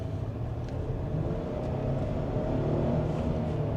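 A 2026 Hyundai Palisade with a V6, driven in sport mode, gives a steady close engine rumble that builds slightly as it accelerates, with no talking.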